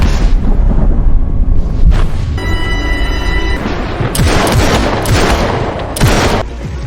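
Gunfire from a 2025 police action film rings out as a loud, chaotic firefight: several sharp booming shots and bursts stacked over heavy rumbling, close and dense, with no speech.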